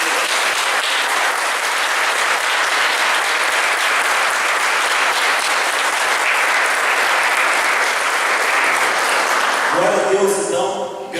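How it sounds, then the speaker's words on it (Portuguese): A church congregation applauds loudly and steadily for about ten seconds, a dense, even wash of clapping that fades out as a voice comes in at the end. "Dê um aplauso para Senhor."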